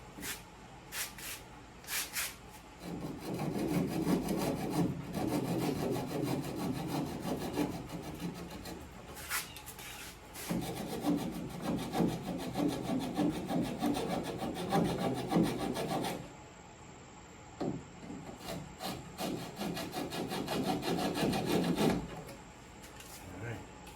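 Hand saw cutting through glued wooden parts of a Minimax 1030S homebuilt aircraft, heard as repeated bursts of rough, rasping strokes separated by short pauses, close and fairly loud, with light voice in between.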